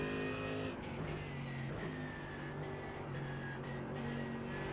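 Mercedes race car in iRacing with a loud, steady engine roar that climbs in pitch through gears, with sharp shift drops about once a second and no talking.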